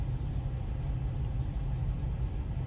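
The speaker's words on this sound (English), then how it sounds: "it's just like mine, a Freightliner, a new Freightliner, but man, it sounds loud" A new Freightliner truck engine idles loudly, a continuous deep low rumble close by with no other sounds.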